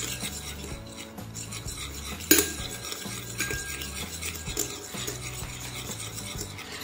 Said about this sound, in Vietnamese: Trộn đều hỗn hợp nha đam và chanh lên